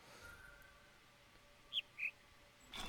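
Two short, high chirps from a bird in the video game The Witness, close and clear against a faint ambient hum, followed by a rush of noise at the very end.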